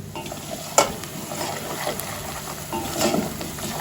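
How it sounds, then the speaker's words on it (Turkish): Chopped onions fry and get stirred in a pan for a tomato-paste sarma filling, with a steady soft sizzle, a couple of sharper scraping clinks of the utensil against the pan, and no talking. "Soğanım kavruldu."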